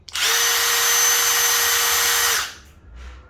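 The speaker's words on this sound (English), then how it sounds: "So this Dewalt impact driver, it has 3 selections." A Dewalt impact driver runs in one steady, loud burst of about two seconds, with a constant high whine, then stops and spins down. A brief fainter noise follows.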